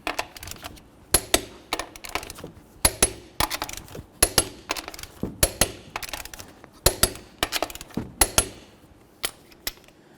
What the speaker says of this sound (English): Start on all your lug nuts, bottom them out, and then we'll torque them to 103 foot-pounds.